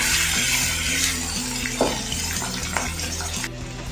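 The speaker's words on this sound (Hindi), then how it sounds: "अब इसमें मैं डालूँगी लहसुन अदरक का पेस्ट और इसकी अच्छे से भुनाई कर लूँगी" Boneless beef browning with garlic ginger paste in a pan for beef nihari, a steady broad sizzle-like wash with occasional stirring scrapes, close and continuous over a low tonal music bed.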